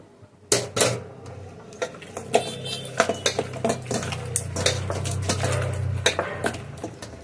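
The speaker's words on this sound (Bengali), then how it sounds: "পাত্রে মাংসটা ঢেলে নিই" Goat meat tipped from a container into an aluminium cooking pot, heard as a rattle of clinks, scrapes and soft thuds against the metal over a steady low background hum, close and fairly loud.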